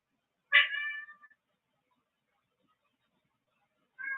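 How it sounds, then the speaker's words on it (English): Cat meowing noisily: one loud, drawn-out meow close by, then silence, then the start of a second meow. "Oh my goodness, it's a noisy cat."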